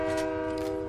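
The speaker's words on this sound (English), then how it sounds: "Train's coming down." A Fortnite train rumbles past with a steady, loud, sustained horn-like drone that fills the whole moment without a break.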